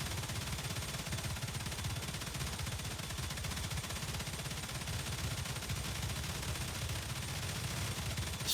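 Automated defence turrets in the StarRupture video game fire steadily at a level 4 raid wave, a dense, continuous rattle of rapid shots with a heavy low thump that stays loud and unbroken throughout.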